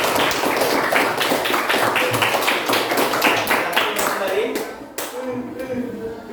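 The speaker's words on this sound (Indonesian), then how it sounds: "Silakan beri tepuk tangan kepada kelompok 3 dan kelompok 4." A classroom group claps for student groups three and four, a dense patter of hands that holds steady for several seconds, then thins out and stops.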